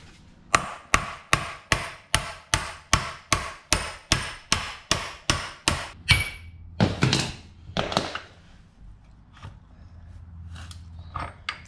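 A hammer taps a steel shaft out of a Land Cruiser 40 transfer case in a fast, even series of about sixteen sharp taps, then a few heavier, irregular knocks before it falls quiet.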